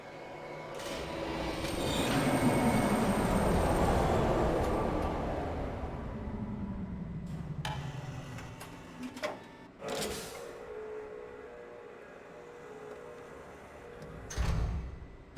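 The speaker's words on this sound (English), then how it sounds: "Hello, fish monorail." A fish-shaped monorail in Riven glides in with a long, swelling mechanical whir that slowly falls in pitch as it slows, followed by several heavy clunks and a final thud as it docks.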